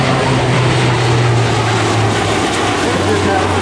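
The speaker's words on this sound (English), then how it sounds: "Now we're coming out as the G-forces try to bleed off speed on the C-130J." Lockheed C-130J-30 Hercules turboprop pulling a tight turn at a Rhode Island Air National Guard open house, a loud, steady propeller drone with a low engine hum holding throughout.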